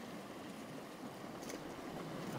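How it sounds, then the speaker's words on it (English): Steady broadband wash of sea waves flowing over a low strip of land on the coast of Skye, Scotland, as the tide comes in, a constant close rushing and splashing with no voices. "tide and the waves coming across that bit of land."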